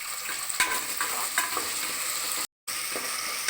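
Curry leaves fry in oil for rabbit curry with a constant bright sizzle and occasional stirring scrapes, cut by a brief moment of silence.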